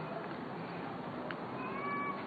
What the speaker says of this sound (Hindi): बिल्ली के रोने की आवाज आई